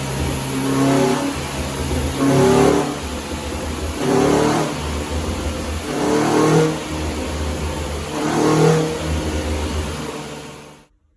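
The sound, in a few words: Renault Clio 182 engine revving on rolling road dyno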